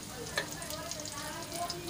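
Cumin seeds sizzling in hot oil for a sago (sabudana) dish, a steady close crackle and fry with light stirring scrapes throughout.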